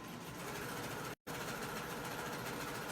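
A serger stitching the front and back crotch seams of a pair of shorts together, a steady close whirring drone with a brief silent gap partway through.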